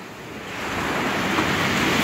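Winter sea surf at Massandra beach in Yalta, Crimea, a broad continuous wash of waves swelling slightly louder, with some wind and no speech.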